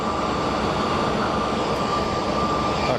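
Continuous jet engine roar from an easyJet airliner at Geneva Airport, close and loud, with a steady whining tone as the engines spool up slightly.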